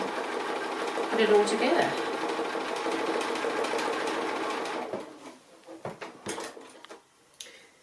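A sewing machine stitches applique stars onto stiff fabric for a conical Christmas tree, running a steady hum for about five seconds while a person talks over it, then stopping and leaving a few scattered clicks and handling noises.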